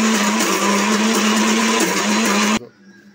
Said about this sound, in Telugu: సో ఇవన్నిటిని కలిపి మనం గ్రైండ్ చేసుకుందాం